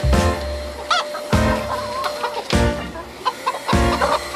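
Several chickens cluck in a feeding frenzy, squabbling over a scrap of meat, with a run of close, overlapping calls and squawks bursting out repeatedly.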